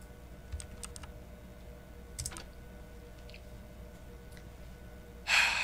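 Keys clack on a keyboard in the puzzle game Our Secret Below, a few short quiet taps and a brief cluster, then a louder burst of sound at the end.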